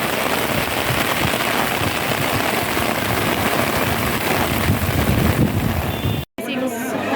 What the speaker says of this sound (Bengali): চরম বৃষ্টি পড়ছে